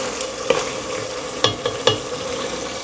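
Meat sautéing in oil for Filipino batchoy, a soft steady sizzle with a few sharp clanks and scrapes of a stirring utensil against the pan, with no talking.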